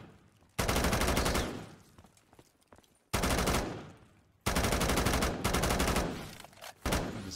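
An HK-21 machine gun fires in Call of Duty Zombies in three long sustained bursts separated by short pauses, loud and close, followed by a brief fourth burst, with no talk over it.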